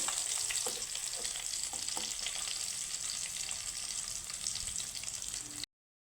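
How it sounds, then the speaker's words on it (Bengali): Rui fish pieces frying in oil in a pan, a continuous close sizzle with light stirring and scraping, ending abruptly. "মাছগুলো দেখো কত সুন্দর করে ভেজে নিয়েছি"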